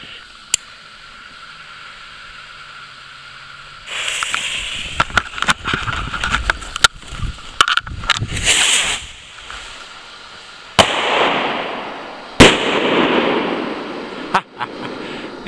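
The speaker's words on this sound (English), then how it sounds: "we have a 5G dumb bum strapped to the back of a rocket here" A rocket with a firecracker strapped to its back launches with a hissing whoosh, then crackles and pops, and finishes with several loud bursts near the end. People can be heard talking faintly before the launch.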